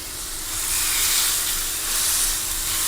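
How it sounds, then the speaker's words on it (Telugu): Fish frying on a hot tawa gives a steady, loud sizzle with a broad hissing spread, continuous throughout and close by, with no voices over it. "అటు ఇటు తిప్పుకుంటూ చక్కగా ఫ్రై చేసుకోవాలండి"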